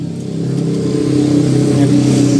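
Used motorcycle engine with a hand starter running and revving, a steady close mid-pitched drone that rises slightly in loudness, with no talk.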